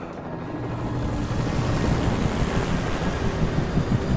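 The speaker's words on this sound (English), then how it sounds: "they got the helicopter after Alan." Helicopter from the video game Alan Wake, a steady rotor and engine roar rising slightly and holding loud throughout, with windy noise mixed in and no talking.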